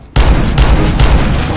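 A loud, dense burst of rifle fire in Counter-Strike: Global Offensive kicks in abruptly and rattles on continuously as a magazine is emptied.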